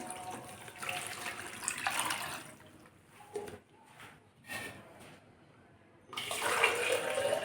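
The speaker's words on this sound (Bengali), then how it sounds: "এখন অ্যাড করব পানি" Water, about two litres, is poured into a pot of salted beef for nihari, a steady rushing splash that pauses briefly and then surges loudly again near the end, with no talking.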